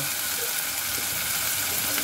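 Spices sizzle and fry in a granite cooking pot while a yogurt vegetable chicken soup is being made, with a steady, dense hiss that carries on without a break and no talking.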